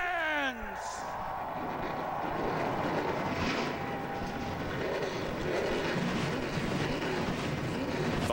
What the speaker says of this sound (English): The engines have fired up.